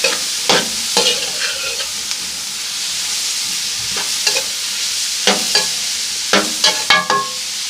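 Onion frying in a pan and being stirred, a loud continuous sizzle broken by repeated sharp scrapes and knocks of the spoon, close up and without talk.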